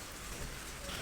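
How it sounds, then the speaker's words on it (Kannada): Rain falls in Bangalore as a brief, steady broadband hiss of drops with no voices. "ಈ ಬೆಂಗಳೂರಲ್ಲಿ ಏನು ಮಳೆ ಅಂತ"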